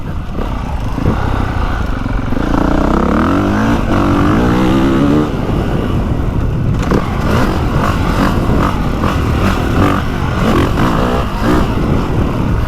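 A 2025 Honda CRF450R dirt bike ridden off-road over soft, rutted ground, its engine loud and close, revving and surging continuously with rising and falling pitch throughout.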